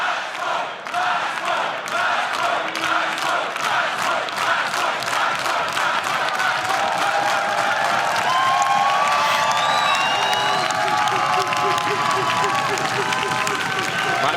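A large esports arena crowd at an Apex Legends finals chants a rhythmic match point chant with steady clapping, then breaks into loud sustained cheering and whistles, with a commentator talking over it.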